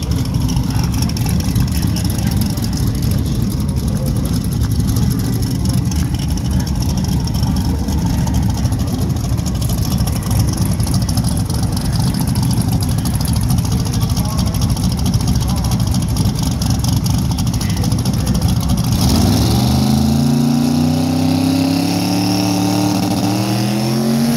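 A drag racing car launches at a Midwest drag racing event, its engine roaring loud and steady for most of the run, then rising in pitch near the end as it pulls away.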